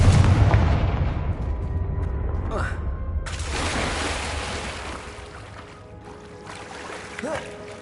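Confringo blasting spell in Hogwarts Legacy, a loud booming explosion with a rumbling roar that fades over several seconds, a spoken incantation and later spell effects mixed in.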